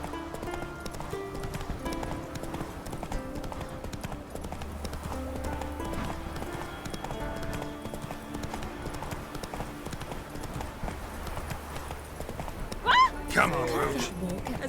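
Hooves clip-clop in a fast, steady rhythm as a horse gallops in The Witcher 3, with background music and voices talking over it and a brief louder burst near the end.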